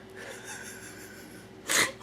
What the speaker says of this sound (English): the tree just sneezed